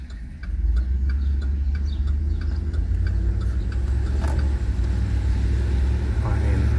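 A car with a 6L80 automatic transmission on its first drive around the block, heard as a steady low engine and road rumble from inside with light ticking throughout.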